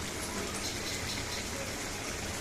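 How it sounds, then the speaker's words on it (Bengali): Water pours into a pan of frying tengra fish chorchori, a continuous dense gushing, splashing rush that fills the whole moment at close range. "আমি একটুখানি আর একটু জল দেবো এখানে।"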